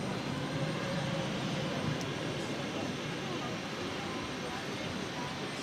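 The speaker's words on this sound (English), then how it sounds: "This is American Airlines 2297 taking off to Dallas Fort Worth on the 737-800" An American Airlines Boeing 737-800 jet taking off at Boston, giving a constant, dense engine roar at a moderate distance that stays level for the few seconds heard.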